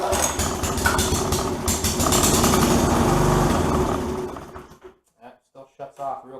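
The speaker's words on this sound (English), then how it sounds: "Let's see if this thing starts, huh? Wow, almost first pull after having the whole carburetor drained." A two-stroke engine with a freshly rebuilt, drained carburetor fires up almost on the first pull and runs loud and steady, then dies away into a few sputtering bursts as it shuts off without choke.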